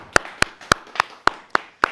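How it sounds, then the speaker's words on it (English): Sharp, evenly spaced claps, about seven in two seconds, close and distinct rather than a full crowd, for the house band on a nightly studio show. "we need to give a fantastic round of applause for our amazing house band"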